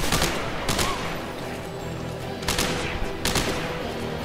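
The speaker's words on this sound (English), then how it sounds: "Is this thing automatic? I'm firing it in burst." Automatic weapon in Dead Space 3 firing in several sharp bursts, loud crackling volleys separated by short gaps with a rumbling background, no talk.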